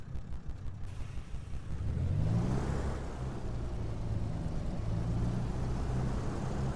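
Aircraft engine taxiing at about 1500 RPM in the DCS flight simulator game, a steady low droning hum that swells slightly after the first two seconds and holds an even, continuous tone.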